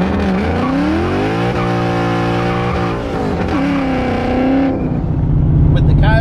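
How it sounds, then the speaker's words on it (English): A Mustang with a 470 HP 5.0 Coyote V8 engine roars through strong rising revs, a loud close engine note with pitch sweeps and a possible tire squeal, while a voice talks over it. "With the Coyote up front, this Mustang feels like a different car."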